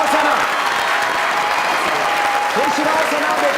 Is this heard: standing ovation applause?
yes